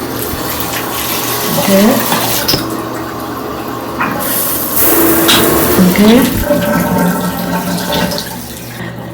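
Shower running in an apartment bathroom, a steady broadband hiss of water filling the clip under occasional brief speech.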